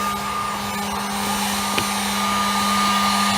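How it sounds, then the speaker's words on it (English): A heat gun blows on a dented car bumper, giving a steady, loud whirring hum with a constant airy rush and no speech. "it's getting better and better with the heat gun"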